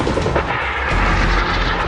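Army helicopter unit weapons fire at a shooting competition: dense, loud, continuous booming and rumbling blasts with no pauses, close and heavy throughout.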